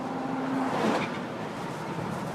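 A car drives along, heard from inside as a steady engine and road rumble at moderate loudness, with a brief swell midway and no talking.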